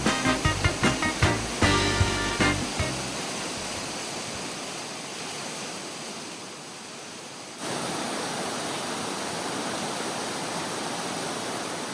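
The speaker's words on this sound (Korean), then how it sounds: "드디어 도착했습니다. 이것이 바로 대폭포입니다." A large waterfall in Croatia roars in a constant, dense rush that fills the air, preceded by a few brief taps at the start.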